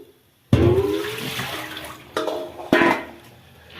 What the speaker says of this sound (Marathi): हे बघा हे घाण पाणी निघलं आता हे टाकून देते मी